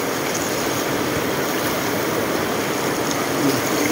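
Shallow mountain river flowing steadily, a dense, continuous rushing wash close by with no pauses or voices.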